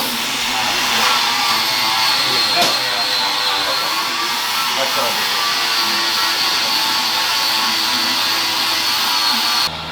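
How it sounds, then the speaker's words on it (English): A power sander working filler on the quarter panel of a Galaxie car in a body shop, a loud, steady, close hissing whine that runs unbroken for the whole stretch and cuts off at the very end. "I got this whole quarter pretty much sanded, or at least our initial sanding done"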